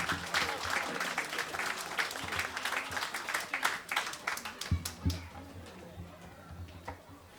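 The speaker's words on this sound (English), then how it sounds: "give our outstanding parents a round of applause" An audience at a school Parents' Day event gives the parents a round of applause, sustained clapping of moderate loudness that thins out into scattered claps near the end, with faint voices in the room.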